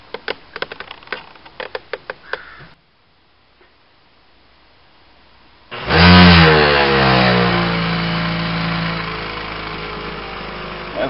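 A homemade screw sorting machine with a dimmer speed control starts up after a few clicks and a pause, then runs as a loud, steady motor whir with a rising pitch that holds and gradually settles.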